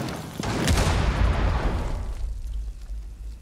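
A grenade in Rainbow Six Siege detonates in a heavy, booming blast with deep low rumble and a crackling burst, decaying over a couple of seconds.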